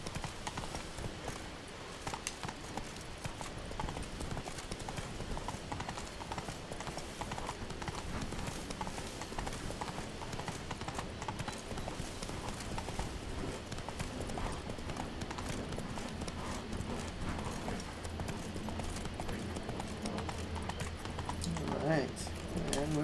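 The horse Roach gallops in The Witcher 3, with continuous, rhythmic hoofbeats drumming throughout under game music and talk, plus a brief whinny-like sound near the end.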